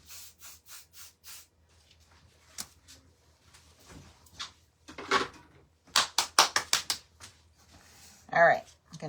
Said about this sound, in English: I think it needs a shot of hairspray.